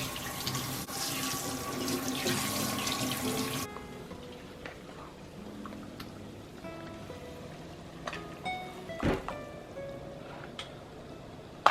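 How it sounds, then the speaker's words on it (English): Tap water runs into a kitchen sink while meat is washed for homemade tamales: a loud, steady splashing gush for the first few seconds, then a quieter trickle with scattered drips and clinks. "we're gonna start washing our meat."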